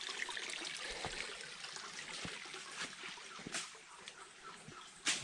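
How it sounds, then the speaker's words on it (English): A seasonal creek running full in the rainy season trickles and babbles steadily, with scattered small knocks and splashes heard fairly close, no one talking. "This is our seasonal creek, and since we're in the rainy season right now, it's flowing really well."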